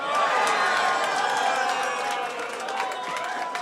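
A rowdy audience at a fireside chat event erupts in loud cheering, whoops and scattered clapping, the noisy reaction gradually fading a little over a few seconds.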